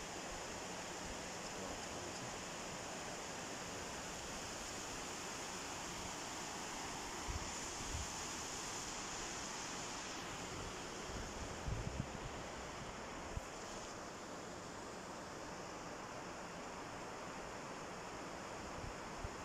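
Stream water rushes steadily as a diverted hill stream is channelled during a fish-catching event at Kalki, Benighat Rorang, Dhading, near a cement factory; a constant, broad, fairly loud wash that continues without pause throughout.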